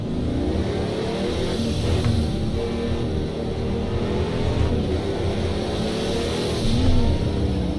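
Race car engine revving hard and shifting through gears in a racing video game, a loud continuous mid-pitched roar that rises and falls steadily with no talking.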